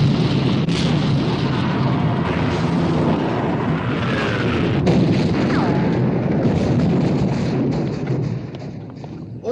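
Battleship guns firing in a 1960 film naval battle, a dense loud roar of booms and rumbling blasts that runs on with scattered sharp cracks, then eases slightly at the end.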